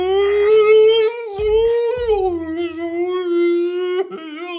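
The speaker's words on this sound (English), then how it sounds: "What is that? It's like a whale sound." A long, sustained whale-like moan that bends slowly in pitch, rich in overtones, loud and close, broken by a few short low thumps and clicks, with no talk over it.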